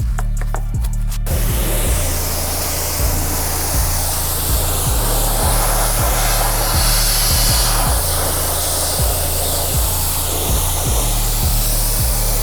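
A steady hiss of spray as cleaner is sprayed on an abandoned car that sat for years, with a low rhythmic pumping thud repeating underneath and no talking.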